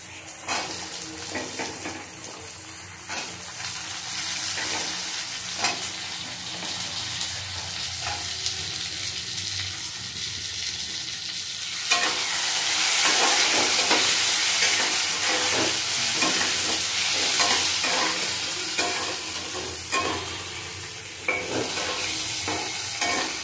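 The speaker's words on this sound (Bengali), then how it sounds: "একসাথে ভাজা করে দেবো" Diced potatoes fry in a pan with frequent stirring, a continuous sizzle under scraping and clinking spatula strokes that swells louder midway, close up, with no voices.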